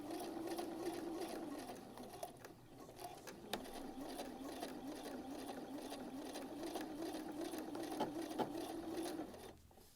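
A sewing machine stitches a short seam on a shirt with a steady, close mechanical whir and rapid needle chatter, continuing for about ten seconds before winding down.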